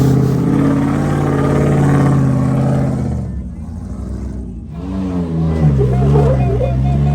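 Jeep engine labouring up the You Gotta Be Nuts rock obstacle at Sand Hallow on sticky tires over dry rock, a steady loud drone that eases briefly then swells again, with a voice talking over it.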